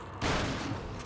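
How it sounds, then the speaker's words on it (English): A single loud shotgun blast in Resident Evil 4 HD Project, fired at a shield-bearing enemy in the castle, with a sharp onset and a decaying rumble. "if you shoot them with the shotgun, it breaks the shield instantly"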